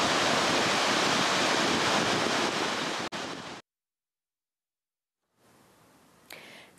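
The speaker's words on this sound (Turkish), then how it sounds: "Mardin'in gizli kalmış doğal güzellikleri arasında yer alan Başdeğirmen şelaleleri" The Başdeğirmen waterfalls in Mardin roar with a loud, dense rush of falling water, cutting off to silence for a couple of seconds before a fainter, more distant rush returns.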